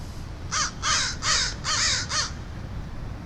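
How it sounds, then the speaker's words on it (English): A small party of crows caws from a nearby tree in a park on a hot day, five harsh calls in quick succession, fairly close and clear over quiet outdoor background. "It's a small party of crows sitting on the tree nearby."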